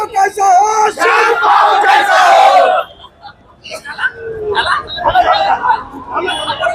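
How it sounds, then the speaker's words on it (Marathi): A lively crowd of party workers celebrating a municipal council election win cheers and shouts together, loud and close, then drops to scattered excited voices and chatter. "कार्यकर्त्यांमध्ये जल्लोषाचा माहोल या ठिकाणी आपल्याला दिसत आहे"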